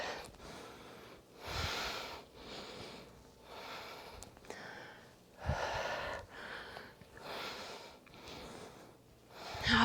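Heavy, rhythmic breaths are forced out during a fitness exercise, a series of strong exhales and snorting sniffs repeating every second or two, close and fairly quiet with no talking.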